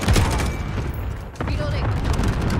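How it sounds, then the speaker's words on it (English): Cluster strike explosions in Call of Duty Modern Warfare rumble as a string of deep booms and crackling blasts, loud and continuous, under a voice talking. "Allied cluster strike inbound."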